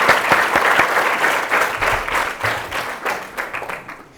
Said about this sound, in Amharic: ቢ አጨብጭቡለት፣ በደንብ አጨብጭቡለት።